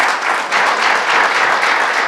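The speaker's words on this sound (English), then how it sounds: "I do appreciate everyone's applause" Loud, dense applause from an audience at a council business session fills the room without pause, a continuous wash of many hands clapping at once.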